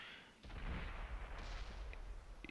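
Tank cannon fire booms in a clan battle of a tank video game, one heavy report followed by rumbling echoes and a couple of faint sharp ricochet pings, moderately loud.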